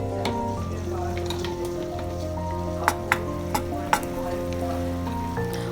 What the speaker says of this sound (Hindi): इसके डालने के बाद थोड़ा जब ये गर्म हो जाए उसके अंदर हम गुड़ के पीसेस डालेंगे और उसको पकाएंगे।